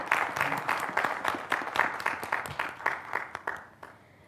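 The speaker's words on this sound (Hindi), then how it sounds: "तालियों के साथ ज़िया फ़ारूक़ी साहब का इस्तक़बाल करें" Audience applause welcoming a guest, Ziya Farooqui, at a DD Urdu Mehfil-e-Nishat gathering: steady, moderately loud clapping from a crowd that keeps an even pace and then drops away near the end.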